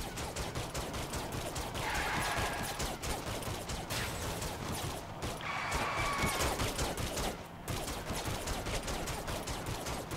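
Sustained automatic gunfire and bursts from Saints Row The Third on PS3, a dense rattling fusillade lasting throughout with brief lulls, loud and continuous with no talk.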